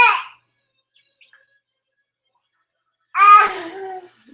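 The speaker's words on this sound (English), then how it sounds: "If you hear kids in the background and people." Children babble and chatter in the background of a webinar, a short burst at the start, then a pause of near silence, then a longer lively stretch of kids' voices.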